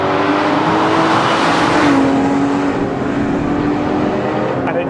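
Porsche 911 GT3 RS with a 4-litre engine accelerating, a loud, continuous engine roar that climbs in pitch and then eases as it shifts, heard close up and alone.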